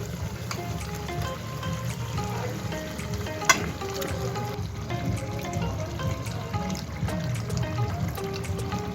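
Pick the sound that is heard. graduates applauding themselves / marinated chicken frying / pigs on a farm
marinated chicken frying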